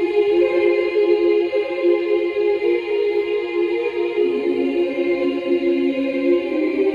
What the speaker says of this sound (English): So I start off with this like chorus sounding thing.